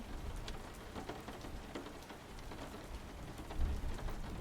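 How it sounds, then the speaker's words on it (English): Rain falling in a cosy indoor setting, an even patter of drops on a surface with occasional louder splashes and a soft low rumble, moderately faint and with no talking. "I do like the sound of rain."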